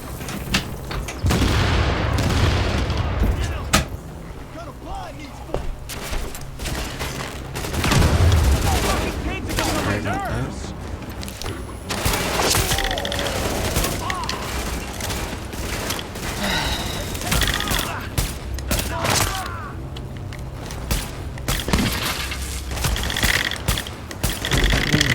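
Enemies open fire in the video game The Division, loud rapid bursts of gunfire with heavy booms and mechanical clatter, continuing throughout while a player talks over the shooting.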